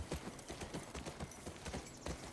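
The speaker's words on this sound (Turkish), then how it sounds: "Atı kocaman şeyin üstünden atlatmaya çalışıyorum." A horse moves in The Last of Us Part II, rhythmic clip-clop of hooves trotting at a steady pace, fairly faint and even throughout with no talking.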